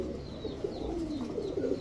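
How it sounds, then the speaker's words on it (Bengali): A male Silver Sundori pigeon coos softly nearby in a short, low, burbling run of repeated coos. "এই কবুতরটা এটা হচ্ছে নর কবুতর"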